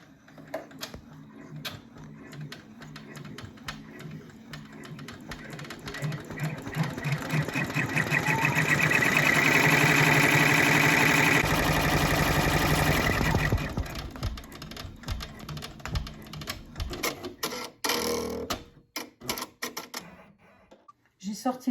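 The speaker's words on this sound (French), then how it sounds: "Je remets le cadre à la machine pour continuer la broderie." An embroidery machine stitches a mini zigzag on fabric, a rapid rhythmic mechanical clatter that swells louder in the middle and then breaks into scattered clicks and handling sounds, with a voice speaking at times.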